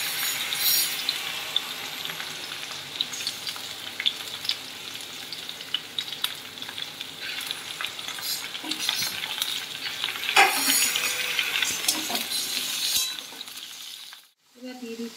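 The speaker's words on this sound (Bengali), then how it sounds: "ঝিঙে ভাজা," Sliced ridge gourd fries in a pan for a mixed vegetable curry, sizzling steadily while a spatula stirs and scrapes with occasional clinks, close and continuous until a brief pause near the end.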